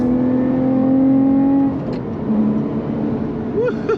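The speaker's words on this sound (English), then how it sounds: "I hope the sound of the car is coming through." A 2021 Lotus Evora GT mid-engine sports car on Tennessee country roads, its engine holding a steady tone that then drops and shifts as it pulls away, heard from inside at close range with a hint of talk.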